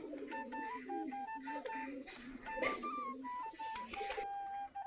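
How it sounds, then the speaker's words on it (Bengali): Domestic Giribaaz pigeons coo in a steady run of soft, warbling calls, several birds overlapping close by with a faint background murmur. "আমাদের সবগুলাই দেশি জাতের দেশি গিরিবাজ কবুতর।"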